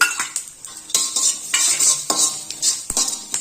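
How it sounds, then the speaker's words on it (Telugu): Coriander, cumin and fenugreek seeds dry-roasting in a kadai while a spoon scrapes and rattles against the pan, each stir a short metallic clink that comes in an uneven rhythm, with no talk. "ఈ కడాయిలోనే ఒక 4 టేబుల్ స్పూన్ల ధనియాలు వేసుకోవాలి, జీలకర్ర, మెంతులు ఇవన్నీ కలిపి వేయించుకోవాలి."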